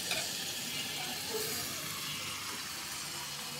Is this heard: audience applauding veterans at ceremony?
no